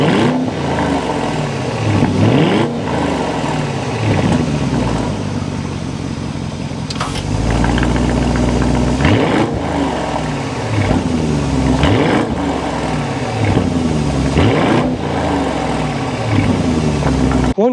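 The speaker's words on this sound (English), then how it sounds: "start it up so you can hear that exhaust note" A 2024 Audi SQ8 SUV engine rumbles inside the vehicle, rising and falling through repeated revs and shifts with a deep, loud exhaust tone throughout; no voices.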